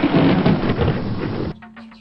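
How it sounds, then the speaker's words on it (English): Thunder sound effect: a loud, dense rumbling crack lasting about a second and a half, then a softer tail with faint patter, no voices. "Thunder!"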